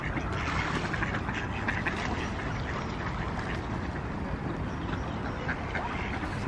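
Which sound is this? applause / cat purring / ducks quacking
ducks quacking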